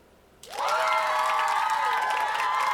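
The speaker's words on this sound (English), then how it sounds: "So everyone, give this another round of applause." Following a pause, a crowd of applause and cheering breaks in suddenly and holds steady, bright and full with whooping voices blended in, sustained to the end at the close of an orchid collection showcase.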